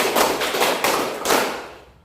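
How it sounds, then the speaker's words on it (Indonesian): A classroom of students clapping in unison five times, each a loud, broad burst of many hands, evenly spaced and close, with no talk over it. "Tepuk 5 kali ya"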